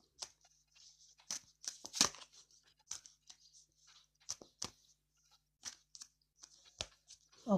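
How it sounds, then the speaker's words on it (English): Deck of tarot-style reading cards being shuffled, producing quiet, irregular crisp flicks and riffling snaps close up, with scattered sharper card slaps over several seconds. "as I'm shuffling these cards"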